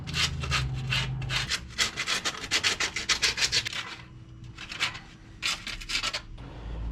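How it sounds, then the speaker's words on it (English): Sandpaper rubs in quick repeated strokes over the metal edge of a Ford F150 rear differential, close and fairly loud, in bursts with short pauses between them. "I'm going to go in lightly on the edge of the diff here with some sandpaper"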